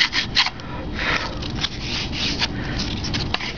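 Hand sanding a balsa glider's leading edge with 80 and 120 grit sandpaper, giving close, steady dry rubbing and scratching strokes in a quick uneven rhythm with no talk.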